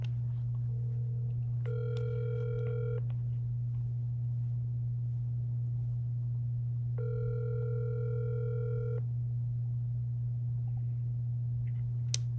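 An outgoing phone call rings twice, each long electronic ring tone spaced a few seconds apart over a steady low hum, with no voices.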